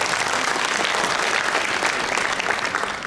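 An audience at the 2019 Daegu smart city international symposium panel applauds, with dense, steady clapping from many hands filling the hall at full volume for the whole stretch.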